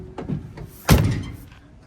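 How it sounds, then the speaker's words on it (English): A 1964 Buick Riviera door swings shut with one solid, low thunk, close and fairly loud, after a brief softer rattle of handling. "door closes pretty good."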